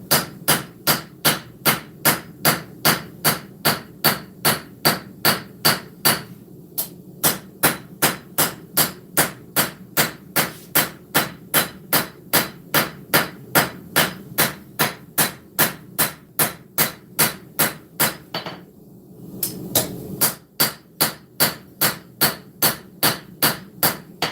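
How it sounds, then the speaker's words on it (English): A hammer forges the bevels of a knife blade on hot steel, striking in a steady fast rhythm of about two loud ringing blows per second, with brief pauses around seven and twenty seconds. "So we're going to forge down on those bevels a little bit more."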